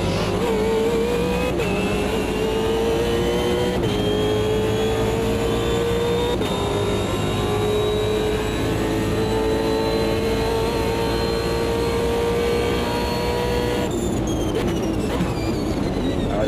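A BMW M3 GT2 race car in Automobilista 2 accelerates hard, its engine note climbing steadily through long gear pulls with brief drops at each upshift, loud and continuous throughout.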